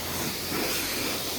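Clear coat sprays steadily from a self-serve car wash wand onto an Acura TSX: a loud, continuous hissing spray with a low rumble underneath and no pauses.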